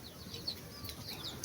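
Chickens on a small urban farm in Kampala give soft, quick clucks over faint farmyard background noise, fairly quiet and close.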